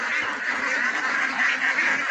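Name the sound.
Vigova female duck quacking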